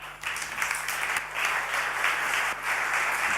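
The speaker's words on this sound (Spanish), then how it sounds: "Les pido un aplauso enorme a nuestro primer ponente" Loud audience applause greets the first speaker at an innovation conference, a continuous wall of clapping that swells briefly and stays steady, with no talking on top.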